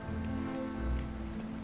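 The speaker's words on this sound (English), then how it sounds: "Oh, it's raining." Rain falling in Genshin Impact, a soft, steady patter heard beneath sustained tonal background music, with no voices.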